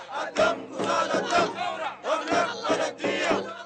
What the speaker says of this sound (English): Today they're chanting, "Only blood washes blood."